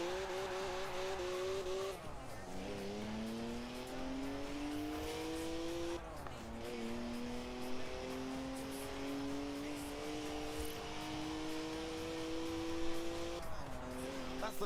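In Forza Horizon 4, a BMW 1M with a turbocharged 3-litre straight six drifts. Its engine revs rise and fall in long sweeps, with tire squeal and skidding running continuously at a close, steady level.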